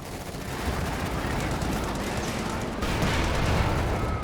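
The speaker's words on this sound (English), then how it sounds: "it's the Soviet artillery being brought on in" Soviet artillery fire in Company of Heroes 2, a dense, continuous rumble of battle with overlapping booms and gunfire, loud and sustained throughout.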